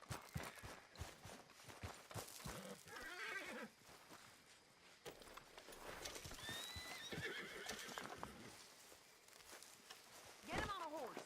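A horse in Red Dead Redemption 2 whinnies and snorts amid clip-clopping hooves, with voices speaking in between; several whinnies rise over the steady hoofbeats.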